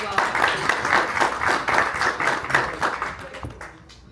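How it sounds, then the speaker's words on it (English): Small audience at a weekly Rotary-style club meeting claps after guests are thanked, a brisk pattering round of applause that thins out and fades near the end. "let's give them a round of applause"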